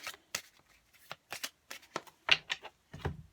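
Tarot cards are shuffled by hand in a series of short, crisp riffling bursts with brief pauses between them, close up and fairly quiet, with no talking.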